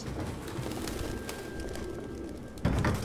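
Pigeons cooing repeatedly in a grimy abandoned room in the Detroit: Become Human video game, soft throaty coos over steady background ambience, with a louder burst near the end.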